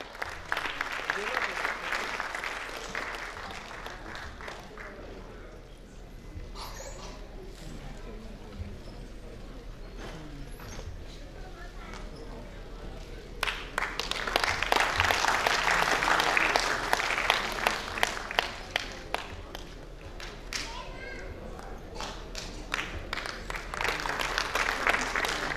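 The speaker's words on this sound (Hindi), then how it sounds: "आपकी जोरदार तालियों के बीच सम्मान करें" Audience at a Hindi comedy poetry gathering claps in waves, the applause swelling, fading and building again over a long stretch, with voices murmuring underneath.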